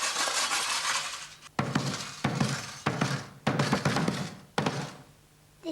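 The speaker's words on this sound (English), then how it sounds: "It is a calabash drum." Calabash drum with pebbles inside, played in a handful of sharp, loud thumps and rattling hits with brief pauses between, the pebbles adding a gritty shake.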